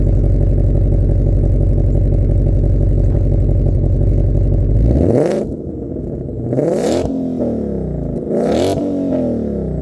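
A supercharged V8 car engine idles with a deep, lumpy rumble, then revs hard three times, each blip rising sharply and falling back, loud and close.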